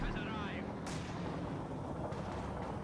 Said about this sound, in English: Do have that mortar there, and I do set up a barrage here on this position